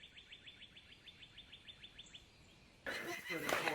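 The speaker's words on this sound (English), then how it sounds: "2 hawks live here now. Probably 3, judging by that one that won't shut up." A hawk calls near a small cave in open prairie country, a rapid run of a dozen sharp, thin repeated cries, faint and distant, followed by a burst of louder rustling and wind noise close by.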